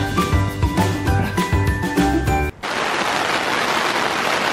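Steady rain hisses across a campsite on Assateague Island, a dense, even wash of drops pattering on surfaces, continuous and fairly close, following a brief burst of tinkling music that cuts off abruptly.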